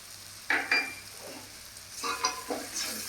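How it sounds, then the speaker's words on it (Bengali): A pan of softened capsicum with fried cumin powder being stirred, giving two bursts of scraping and sizzling, then a second pair of louder stirring strokes over a low background hiss. "দিয়ে আমি আরেকবার নাড়াচাড়া করে নিলাম"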